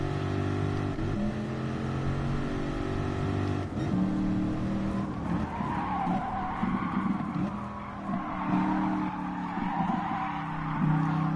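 Race car engine in Gran Turismo Sport, a continuous loud droning revving that shifts pitch through gear changes and braking, with tire squeal and skidding noise throughout.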